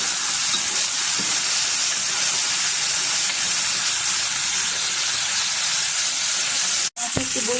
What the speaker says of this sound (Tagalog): At lulutuin ko ang aking chicken breast. Lagay ko ang aking chicken breast.